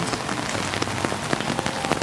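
Heavy downpour at Disneyland's Fantasyland, dense rain pattering hard on surfaces in a steady, close hiss with scattered sharper drop impacts and no voices.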